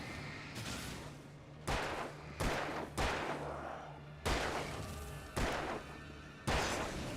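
Gunfire in a horror video game: six sharp, loud shots spaced about a second apart, each leaving a short rumbling tail over a steady low background hum.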